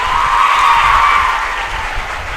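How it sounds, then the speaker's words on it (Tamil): Audience applause for children at a Kanyakumari school event, a dense, loud wash of many hands clapping with no breaks for a couple of seconds, no voices on top. "அந்த குழந்தைகளுக்கு ஒரு பெரிய கைத்தட்டல் கொடுங்க."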